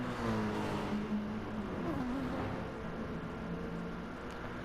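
Racing cars in a sim race, including Mercedes, Mazda, BMW and Lexus models, run down the back straight with a steady engine drone and rising and falling whine, fairly close and without talk.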